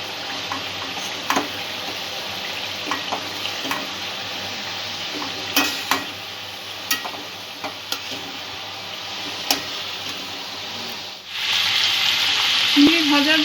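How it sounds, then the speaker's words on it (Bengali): Prawns fry in oil with onion, ginger and garlic paste and spices, giving a steady close sizzle with occasional clinks of a spoon stirring in the pan, and a louder hiss near the end. "এই তেলের মধ্যেই বাকি মশলাটা দিয়ে আমি কষে নেব চিংড়িটা"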